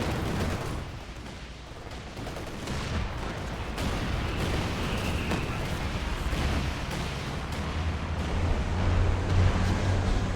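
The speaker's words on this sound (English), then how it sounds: "We have the sword artillery" Artillery fire and gunfire rumble continuously through a competitive multiplayer match of a war video game, with dense booming explosions and crackling shots at a steady loud level, a faint voice occasionally underneath.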